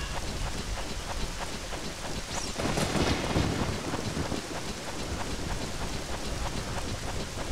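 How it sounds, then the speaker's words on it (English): Rain hisses steadily in a Zelda game while a roll of thunder swells in the middle and fades, and the downpour continues loud and even throughout. "It's raining. This sucks."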